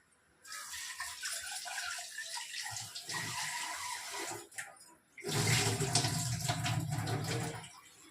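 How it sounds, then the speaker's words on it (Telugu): Tamarind for fish curry is washed in water, with splashing and rushing water running in two bursts, the second louder and fuller, close by with no talk. "ఇది చింతపండు అండి కడిగేసి నానబెట్టేస్తాను"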